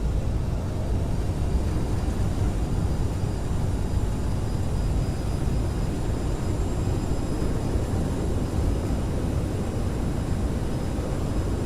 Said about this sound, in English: Landed on one wheel, reverse coming out.